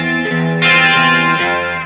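Electric guitar chord with gain, a dissonant distorted voicing strummed twice, the second stroke brighter and louder, ringing out under a chorus-like shimmer.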